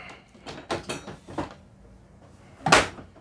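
Drawers and cupboards in the galley of a Lagoon 380 catamaran are handled, giving several close clattering knocks and slides of plates and cutlery, ending in one louder, sharper clack.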